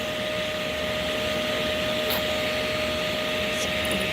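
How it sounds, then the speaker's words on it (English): A Hoover vacuum cleaner runs steadily indoors, a loud, close, unbroken drone with a faint whine that holds level throughout, with no talking. "So we have Mr. Hoover here that cleans up everything after Mr. Stewie."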